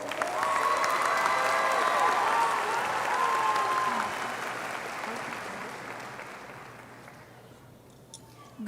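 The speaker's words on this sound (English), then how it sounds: "Let's give her a big round of applause, please." A graduation ceremony audience applauds the high school valedictorian, loud sustained clapping from a large crowd that holds strong, then gradually thins and fades toward the end.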